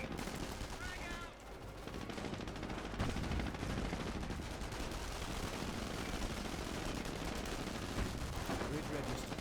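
Dense, continuous gunfire and machine-gun bursts from the video game Company of Heroes, a steady loud battle din with sharp volleys throughout and shouted voice lines mixed in.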